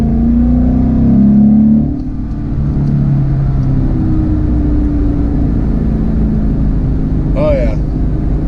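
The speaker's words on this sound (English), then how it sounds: "Let's do a little third gear pull." A car fitted with a JLT intake and tune pulling hard in third gear, a loud droning engine note rising steadily from inside the cabin, with a voice briefly heard near the end.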